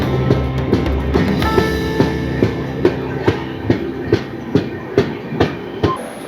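A moving passenger train on the roughly 152 km run from Kolkata toward Jhargram rolls on, its wheels knocking out a steady, evenly spaced clickety-clack over a continuous rumble, heard from inside with no talking.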